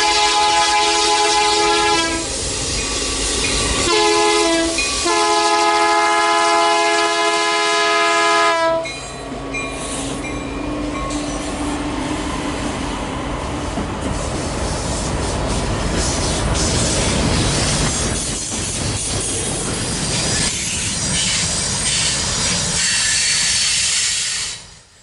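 A CN freight train hauled by Geep locomotives rolls past on a curve of the Three Hills Subdivision, its horn sounding in long blasts before a loud, rumbling, clattering pass of rail cars that holds steady and fades at the end.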